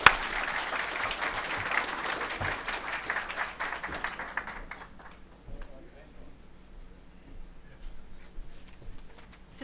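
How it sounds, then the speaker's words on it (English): Audience applause at a book launch, a dense burst of clapping that starts loud and gradually thins out and fades over about five seconds into a quieter room. "So give her the applause and acknowledgement she deserves, Khadija Patel."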